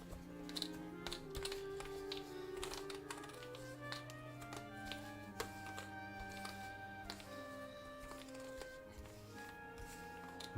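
Game cards for a Conan board game being shuffled, a dense run of quick soft taps and riffles, faint and close, continuing steadily with only slight background talk.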